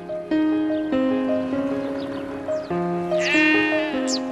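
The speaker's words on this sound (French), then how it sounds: "Quelques moutons" Several sheep bleat near and far beside a calm lagoon edge bordered by pastures, their wavering calls overlapping over a steady tonal music bed, with one high bright bleat standing out near the end.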